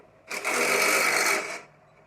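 A power tool, likely a socket driver tightening a nut on a Lifan Power Storm 3300 PSI power washer wheel, gives one loud, close, high-pitched buzzing whir lasting about a second before stopping abruptly.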